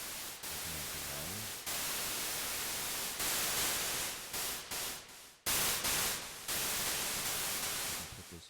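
White noise generated in Ableton plays as broad, loud static that cuts on and off in blocks of changing length, with abrupt starts and stops and a brief low warble near the beginning.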